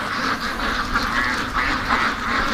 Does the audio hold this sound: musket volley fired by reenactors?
no